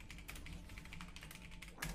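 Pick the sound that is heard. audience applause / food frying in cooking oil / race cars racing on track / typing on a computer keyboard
typing on a computer keyboard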